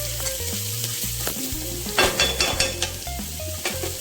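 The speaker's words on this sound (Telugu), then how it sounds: "ఇదిగోనండి, మసాలాలు అన్నీ చక్కగా వేగిపోయినాయి" Bitter gourd and prawns fry with spices in a pan, a steady sizzle broken by repeated stirring scrapes and clinks of a utensil against the pan, with no talk.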